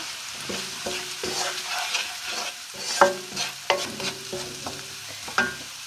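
A spoon stirs vegetable curry with curry powder and ginger in a pan, giving repeated close scrapes and knocks over a soft sizzle, in an irregular rhythm.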